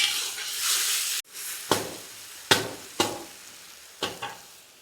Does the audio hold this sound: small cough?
no